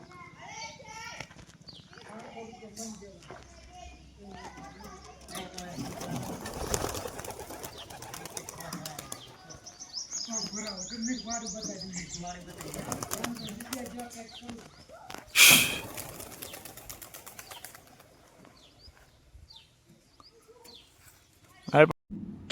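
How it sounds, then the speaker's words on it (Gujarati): Pigeons kept in a village coop coo and flutter intermittently at close range, mostly under ongoing talk and children's voices, with a brief loud burst of wing flapping. "તો આ છે દેવુભાઈના કબૂતર"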